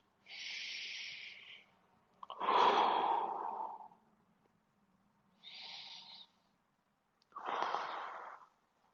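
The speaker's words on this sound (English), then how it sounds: "2 more deep breaths" Slow, deep breaths during a floor stretching exercise, four distinct airy inhales and exhales spaced across the stretch, close and fairly soft with no talking.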